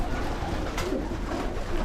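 Pigeons coo steadily in a crowded loft full of strong-looking birds, a soft continuous murmur of overlapping calls close by, with no talking.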